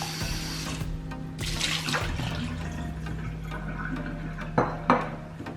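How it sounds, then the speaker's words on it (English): Water runs steadily from a tap into a sink, with a few light knocks and clatters as soaked dried beans are rinsed in a colander. "I will just pour this whole thing into my colander. I will rinse this off."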